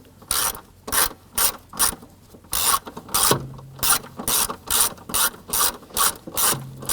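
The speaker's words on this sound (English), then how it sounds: "Let's go ahead and remove the 2 screws holding on our lower knee panel here." A ratcheting tool backs out screws from the lower knee panel of a 1993-1997 Ford Ranger, a close, loud series of quick clicking bursts in an uneven rhythm, with short pauses between strokes and no talk.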